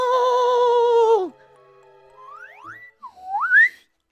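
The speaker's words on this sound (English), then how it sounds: "That was probably really loud in the mic, that whistle" Loud, close whistle held steady at one pitch for about a second, then dropping off, followed by a few shorter rising whistle slides. No talking.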